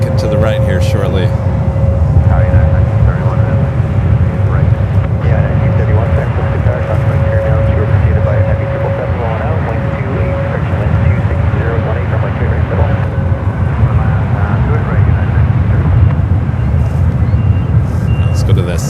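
A United Boeing 757 taking off at San Francisco International Airport, a steady loud roar of engine noise filling the scene throughout with wind buffeting on the microphone and faint voices beneath.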